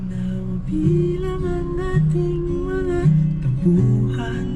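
Music with a steady melody plays loudly through the speakers inside a 2024 Toyota Wigo G car, slightly boomy and muffled.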